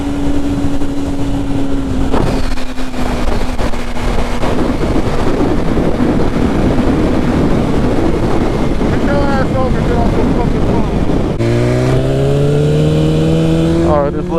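A fully modified superbike engine revving hard under throttle, a loud sustained roar with shifting pitch, rising whines and heavy wind buffeting, ending in a sharp climbing rev; a voice talks over it.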